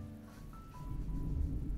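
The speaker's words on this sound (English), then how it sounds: "It's thundering out." Thunder rumbles outside, a low, distant roll that swells and grows louder over a couple of seconds with no voices.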